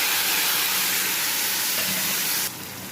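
A ground paste of garlic, onion and green chilli hits a hot pan of fried potato and aubergine, setting off a loud, steady steam-like hiss that drops in level abruptly near the end.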